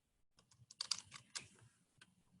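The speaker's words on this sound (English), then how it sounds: "I'm going to type in difference." Quick typing on a computer keyboard while entering a word into a spreadsheet cell, a close run of light uneven clicks that peaks and then trails off into a few last taps.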